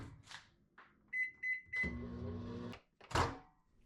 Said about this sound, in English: We're going to microwave them real quick.